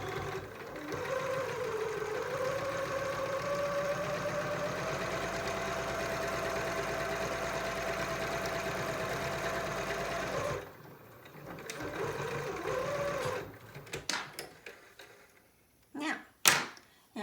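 A sewing machine runs in a long steady whirring burst while stitching a fabric face mask, briefly stops, whirs again for a shorter back stitch, then gives way to a few clicks and handling knocks.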